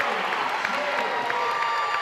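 Crowd at a boys' high school basketball tournament game cheering and applauding for LCA, a steady wash of clapping and voices throughout, fairly loud and even.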